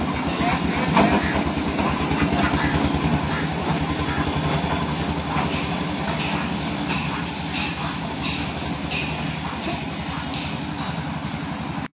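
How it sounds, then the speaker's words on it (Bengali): A toy train runs on the line beside the Howrah station building at the Howrah rail museum, giving a steady loud rolling rumble with a fast, even clickety-clack of wheels that lasts throughout. "এখান দিয়ে টয় ট্রেন ছাড়া হচ্ছে"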